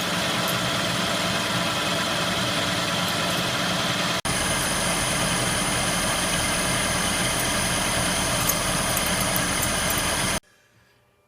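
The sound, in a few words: lathe turning down tough metal for a Morse taper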